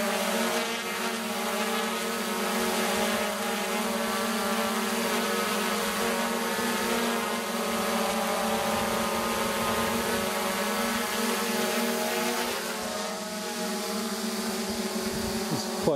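A hexacopter drone hovers steadily in calm air, its motors giving a continuous, fairly loud, even drone with steady harmonic whine throughout, no voices.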